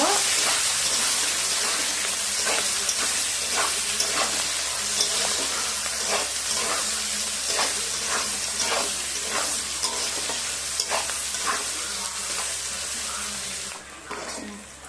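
Onions fry in oil in a wok while a spatula stirs them, a continuous loud sizzle broken by regular scraping strokes, tapering off near the end.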